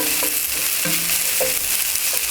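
Garlic cooking with browned meat in a cast iron pan, a dense close sizzle with a few soft scraping stirs knocking through it.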